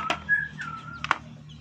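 White-rumped shama (murai batu) kept in a breeding setup gives short whistled calls: a sustained clear whistle followed by a few sharp chirps. The calls are fairly faint over a low background hum, with no talk.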